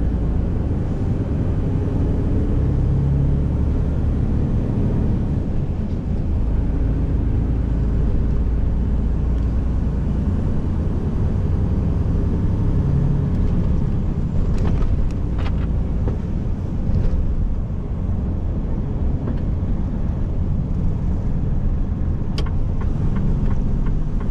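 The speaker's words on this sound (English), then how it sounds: "Ah, Mercedes trucks. They're annoying." Heavy Mercedes trucks rumble past on a road, a continuous loud low engine and tire roar with wind buffeting the microphone and a few brief clanks in the middle.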